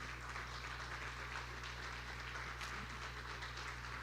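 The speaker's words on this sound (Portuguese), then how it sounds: "Aplaudamos ao Senhor nesta manhã." A church congregation applauds during a Sunday service, a dense, steady wash of clapping that holds evenly throughout at moderate distance with no clear voices on top.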